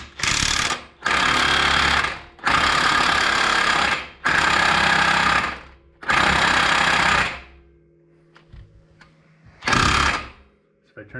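Clutch puller being cranked down on a Polaris General CVT clutch with a power tool: five long, loud bursts of a few seconds each with short gaps, then a quieter stretch of small clicks before one last short burst, up close, with no talking.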